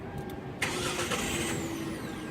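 Hyundai Grandeur with aftermarket mufflers fitted starts up with a sharp crank and catch, then settles into a steady close idle.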